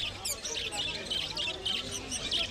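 Cage birds at Kolkata's Galiff Street pet market fill the air with dense, overlapping chirps and tweets, a constant busy chatter close by with faint voices in the background.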